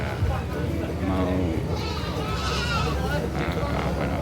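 Goats bleat at the Cilongok livestock market in a busy, noisy setting, with several overlapping cries over steady crowd chatter and people talking nearby.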